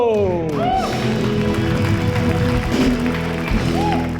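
A studio audience at a TV comedy talk show applauds to welcome the program, a dense wash of clapping and crowd noise under loud band music with a brief voice.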